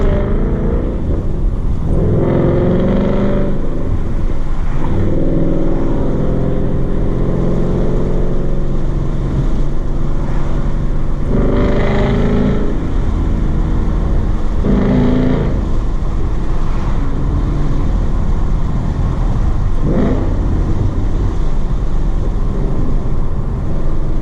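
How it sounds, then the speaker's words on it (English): Ford Mustang fitted with a Ford Performance Power Pack 3 exhaust, revved repeatedly in loud bursts over a steady idle rumble, each throttle blip swelling briefly before dropping back, with no talking. "once you get to a certain RPM, the exhaust just gets really loud"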